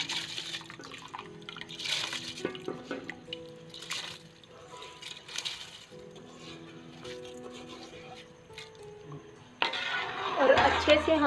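A pot of water for deghi pulao is handled on the stove with soft ringing metallic clinks, then covered with its lid in a louder clattering scrape near the end.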